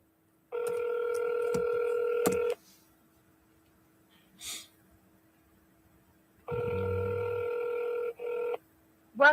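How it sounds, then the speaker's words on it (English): A telephone call rings out: two long electronic ringback tones a few seconds apart, separated by quiet, with a faint breath or click between them. "I'm going to double dial him."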